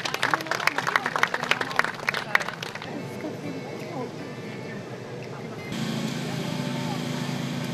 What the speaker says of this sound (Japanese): 今一度大きな拍手をお願いいたします。